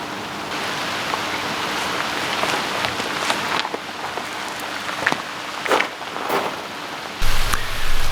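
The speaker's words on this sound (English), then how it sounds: "Rain has started to fall." Steady rain patters down on surfaces at a remote hilltop church site, a constant hiss with scattered heavier drops and occasional knocks, growing louder near the end.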